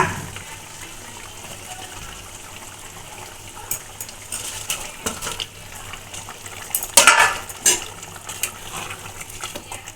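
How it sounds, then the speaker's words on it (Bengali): Jackfruit seed koftas dropped into a pan of boiling curry gravy, low simmering hiss giving way to a cluster of splashes, spoon clinks and bubbling near the end. "ঝোলটা ফুটে গেছে এবার আমি কোপ্তাগুলো দিয়ে দেব কাঁঠাল দানার কোপ্তা"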